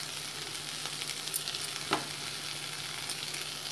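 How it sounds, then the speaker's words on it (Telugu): Chicken for samosa filling fries in a pan, producing a continuous, even sizzle up close with a couple of faint clicks and no talk. "చికెన్ బాగా ఫ్రై అయిపోయింది."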